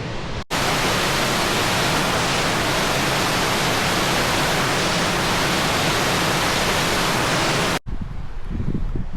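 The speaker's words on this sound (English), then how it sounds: "this is the inside, where you can see the waterfall coming down through the cave" Loud, steady roar of a waterfall pouring down through a cave in Murray Canyon near Palm Springs, a dense broadband rush filling nearly the whole span before cutting off near the end.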